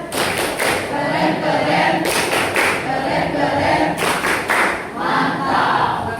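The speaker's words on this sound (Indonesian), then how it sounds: "Kasih tepuk keren." Audience applauding at the close of a classroom presentation during a teacher-training exam, dense, loud clapping from many hands that swells and dips in waves over several seconds, with faint crowd murmur underneath.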